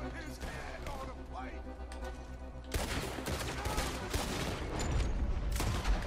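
Gunfire in a Red Dead Redemption 2 shootout, a quiet opening and then dense rattling volleys of shots that keep going loud and continuous, with a voice talking over part of it.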